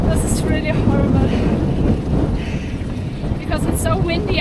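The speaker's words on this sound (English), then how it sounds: "Because it's so windy up here too." Strong wind buffets the microphone on an exposed hilltop in Borrowdale, England, a loud, continuous roaring rush that swells and eases throughout.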